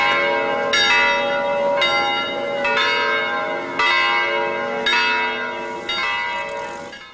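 A large church bell tolls repeatedly in slow, steady strokes, each ring sustained and overlapping the fading hum of the last.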